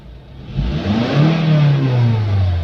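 A Honda CR-V engine revs up from idle toward about 6000 RPM, its loud, close drone climbing steadily in pitch and holding high, with no talk over it.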